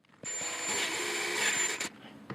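A drill with a 1/4-inch bit enlarges a hole with a steady grinding whir for about a second and a half, then stops abruptly, followed by a few light knocks.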